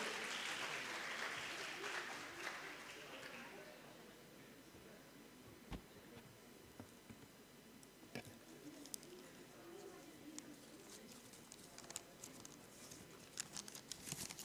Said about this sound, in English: Huge round of applause for Madam Victoria.